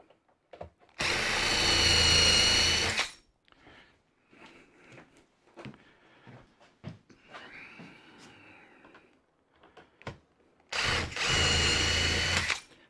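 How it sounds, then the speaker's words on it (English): A power drill whirs loudly in two sustained bursts a few seconds long, drilling holes for drawers in a machine cabinet, with quieter clicks and handling noises between them. "I'll drill this one on this side first."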